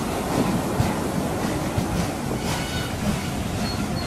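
A steam train rumbles past steadily as it arrives, with a constant rolling clatter and hiss, loud and close, no voices.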